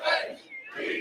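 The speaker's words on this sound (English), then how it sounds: "drinking in the cheers of this Wrestle Turkey crowd here at the Regent in downtown Los Angeles" A wrestling event crowd at the Regent in downtown Los Angeles cheers and yells, a brief swelling roar of many voices that dips and rises again.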